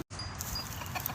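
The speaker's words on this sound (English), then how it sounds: "our number one half silky George Clooney looking shabby chic rooster" A half-Silkie rooster on a hobby farm gives a short, close cluck, loud and alone with no talk.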